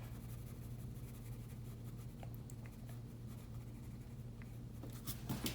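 Soft graphite pencil shading scratches steadily across paper while darker strokes go over a bird drawing, a faint continuous rasp under a low steady hum, with a few brighter strokes near the end.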